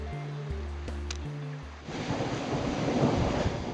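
Thunder rolls through a thunderstorm on a walking route between Geilenkirchen and Aachen, a deep rumble first heard against tonal background sound, then giving way to a dense, steady roar like rain.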